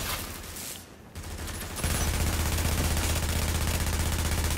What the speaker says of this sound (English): Watch out, shotgun.